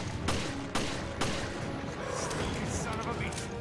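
Gunfire in the Resident Evil video game comes as a few sharp shots at a loud level, with scattered combat noise in between and speech over it.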